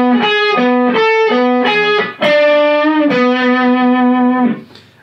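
Distorted electric guitar plays a funk rock lead lick in Dorian, with quick repeated notes returning to a pedal tone before a long sustained phrase, loud and alone.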